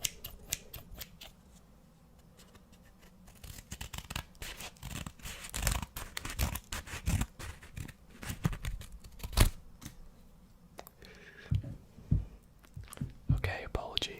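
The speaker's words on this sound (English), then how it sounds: "Okay, let's cut the results open." Scissors slicing open a paper results envelope, a run of soft close snips, crinkles and tearing rustles that grows busier toward the end, with faint whispering in places.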